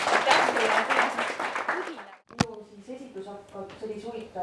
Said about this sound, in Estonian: jõudu jaksu ja teeme suur aplausi